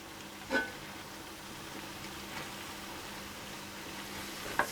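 Vegetables for ratatouille sizzle quietly in a pan as they are stirred, a faint steady frying hiss with a couple of soft scraping knocks near the start and end.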